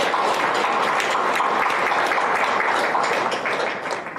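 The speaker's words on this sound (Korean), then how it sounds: "힘찬 박수로서 우리 모두 새 출발을 축하하고 축원해 주시기 바랍니다" A large crowd at a university Buddhist service applauds steadily, a dense, even roar of clapping that holds for several seconds before starting to taper off.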